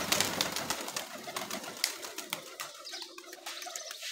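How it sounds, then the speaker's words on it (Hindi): Pigeons coo softly in low, throaty murmurs amid rustling and light fluttering sounds, fairly close, with no talking. "एक कमरा सिर्फ कबूतरों का"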